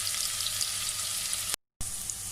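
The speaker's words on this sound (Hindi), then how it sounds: "इसको अभी फ्राई करना है हल्का हल्का" Paste frying lightly in a pan for Pakistani chicken biryani: a steady, close, bright sizzle that runs unbroken, cuts out for a moment, then resumes, with no voices.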